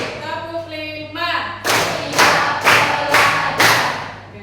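Children in a classroom clap a counted rhythm: four or five loud, evenly spaced group claps rise after a short stretch of speech, each a sharp burst with a brief tail.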